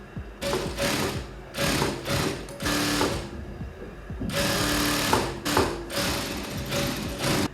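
A sewing machine stitching a corset bra, running in several loud close bursts of rapid mechanical whirring separated by short pauses, with no voices.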